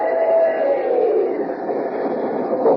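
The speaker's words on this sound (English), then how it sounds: "come on there, swing aboard our famous talking train" A train sound effect in an old-time radio show, a steady rumbling rail roar with a broad continuous wash that holds evenly loud for the whole span, with no talk over it.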